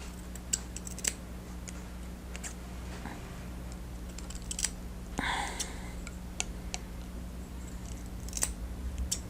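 Beveled-edge hair shears snip through hair in a quiet room, a series of small crisp clicks scattered irregularly over a faint steady hum.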